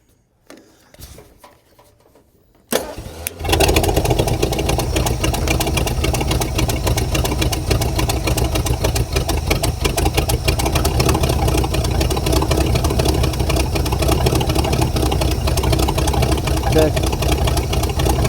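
A drag racing car engine built for a duct tape drags event fires up after some clicks and faint handling noises, then settles into a loud, steady, rumbling idle that runs on unbroken.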